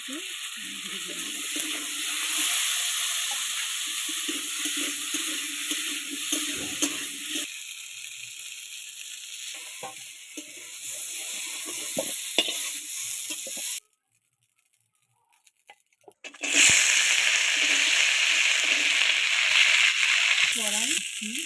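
Fish frying in hot oil with salt and turmeric gives off a steady loud sizzle with occasional stirring and rattling in the pan. It stops briefly partway through, then sizzles strongly again, and someone talks over parts of it.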